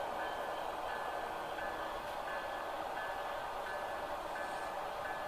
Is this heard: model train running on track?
yes